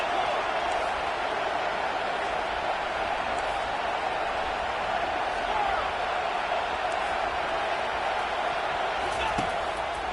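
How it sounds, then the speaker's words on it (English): A college football stadium crowd roars for the defense on third down, a broad, sustained wall of noise with faint claps and whoops inside it. "Decibels rising as the crowd gets behind this defense on 3rd down."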